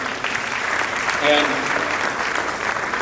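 Audience applause at an award ceremony, a steady wash of clapping from a crowd heard over the whole stretch, with a voice briefly speaking over it.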